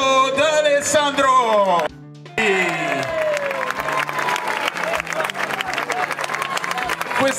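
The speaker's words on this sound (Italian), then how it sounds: "accogliamolo anche lui con un grande applauso, Lorenzo D'Alessandro!" A crowd applauds and cheers to welcome a new member at an Italian family gathering. The clapping is loud and continuous, with a voice talking and singing over it at first, a brief drop, then steady applause.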